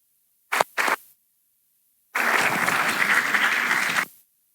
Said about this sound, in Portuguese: para quem eu pedi a todos uma calorosa salva de palmas